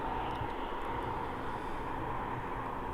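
A Boeing 777 cargo jet taxiing at an airport gives a steady, broad engine roar and hiss from a moderate distance, unbroken and without talk.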